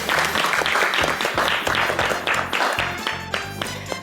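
Studio audience applause on a Turkish cooking competition show, loud sustained clapping from a crowd with rhythmic beats under music, close and continuous before tapering slightly at the end.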